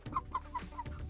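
A chicken clucks softly several times in quick succession, close by and fairly quiet.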